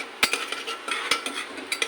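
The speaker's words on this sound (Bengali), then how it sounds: "পেঁয়াজটা একটু ভাজা ভাজা হবে" Sliced onions frying in a pan, with a soft sizzle under repeated sharp clinks and scrapes of a metal utensil stirring against the cookware, close and steady throughout.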